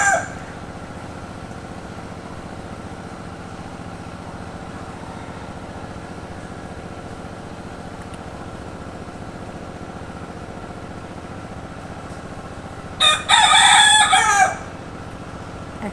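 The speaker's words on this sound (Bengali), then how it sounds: "কিন্তু মোরগগুলো এভাবে ডাকতেই থাকে।" A rooster crows once, loud and close, in a burst near the end of a quiet winter-morning rooftop scene, with steady low ambient hum beforehand and no speech.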